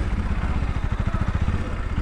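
Motorcycle engine running near Jog Falls beside a construction area, a close, steady, throbbing idle with rapid low pulses throughout and no clear revving.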